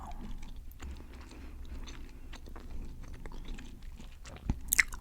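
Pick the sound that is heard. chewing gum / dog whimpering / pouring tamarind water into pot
chewing gum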